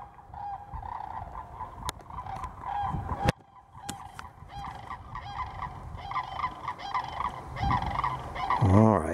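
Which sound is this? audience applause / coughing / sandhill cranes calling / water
sandhill cranes calling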